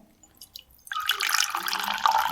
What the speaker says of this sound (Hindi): सबसे पहले मैं एक काम करता हूँ, इसमें थोड़ा सा पानी भर लेते हैं